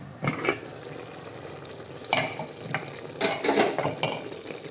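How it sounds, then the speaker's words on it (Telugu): An eggplant and tomato curry simmers in a pan while a utensil stirs it, producing a few scraping, clattering bursts over a soft, low bubbling background. "మీరు ఎంత వేసుకోవాలనుకున్నారో మధ్యలో కలుపుతూ ఉండాలి."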